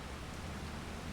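Steady rain falls in the Farming Simulator 25 game world, heard as a continuous soft hiss of broadband noise with no distinct drops or thunder.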